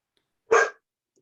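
A single short, sharp dog bark sounds once during an online meeting, loud and alone against silence.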